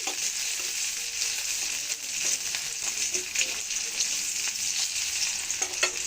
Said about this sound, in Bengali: রসুন পেঁয়াজটা লাল হয়ে আসছে